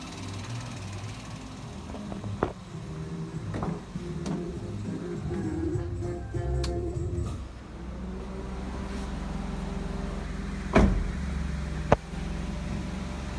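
A car engine idles smoothly and steadily with the air conditioning running, a low continuous hum broken by a few faint clicks and knocks.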